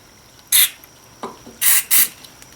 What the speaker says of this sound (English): I'm going to give these a little bit of a spray